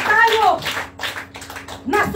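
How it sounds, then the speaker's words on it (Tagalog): A church congregation breaks into applause for God during a Filipino sermon, a burst of clapping following a brief voice at the start and fading toward the end. "Isang ang palakpak para sa ating Diyos"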